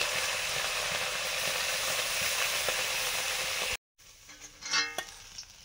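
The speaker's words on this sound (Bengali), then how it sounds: "মাছ ভাজা শুরু করলাম" Tilapia fish frying in hot oil give off a steady, loud broadband sizzle for several seconds, then a brief cut and a quieter stretch with a few scraping, bubbling bursts.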